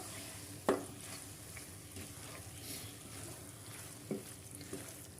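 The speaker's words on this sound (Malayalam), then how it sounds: "നല്ലപോലെ ഒന്ന് ഇളക്കി കൊടുക്കണം" Chicken curry with green peppercorns stirred in a pan, giving a faint low sizzle with a couple of sharp spoon knocks against the pan, fairly quiet and without talk.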